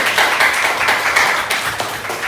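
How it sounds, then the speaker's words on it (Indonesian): A group of students claps steadily and fairly loudly for a team in a classroom, a brisk burst of applause with no voices over it. "Ayo, tepuk tangan untuk tim A."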